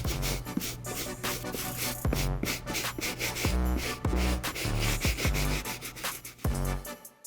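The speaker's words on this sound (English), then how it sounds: "hit this one more time on the uppers with the soft bristle brush just to loosen up that mud and dirt" A soft bristle brush scrubs mud and dirt from the uppers of golf shoes in brisk, rhythmic rubbing strokes, close and continuous, with no talking.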